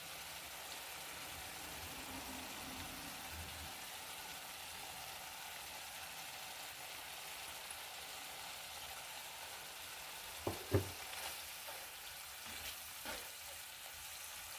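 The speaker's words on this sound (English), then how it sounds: "So while this is simmering away, I'm going to add 1 teaspoon of sugar and 1 teaspoon of salt." Tomato sauce for fish biryani simmering in a slow cooker, giving a faint, steady bubbling sizzle throughout, with a few brief clinks of a utensil near the end.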